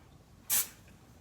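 A single short burst of aerosol spray hisses close by for about a tenth of a second, then quiet.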